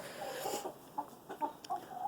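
Soft, scattered clucks from chickens of several breeds, including a buff Silkie rooster, a few short calls spaced irregularly, fairly close with a quiet background.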